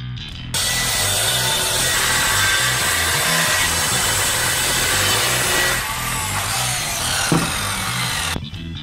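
A power saw cuts wood for a Donkey Kong arcade cabinet build, a loud continuous whining rasp that runs for about eight seconds, pitch shifting near the end before it cuts off abruptly.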